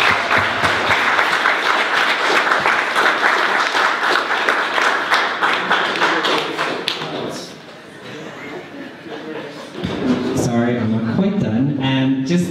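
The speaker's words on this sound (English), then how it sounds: "I just want to give a big round of applause to everyone in the room" Room audience applauding at the close of an evening event on Irish trans history, steady dense clapping for about seven seconds that thins out, then voices talking near the end.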